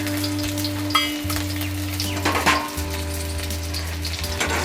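Onion and green chilli frying in a pan as the base of a gravy for a Bombay duck curry, a steady broadband sizzle with occasional stirring scrapes over a constant low electrical hum, close and continuous.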